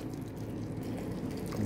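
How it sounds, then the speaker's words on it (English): Hot water poured steadily from a kettle into an AeroPress for coffee, a continuous low gurgling stream, close and fairly quiet. "Pouring with hot water."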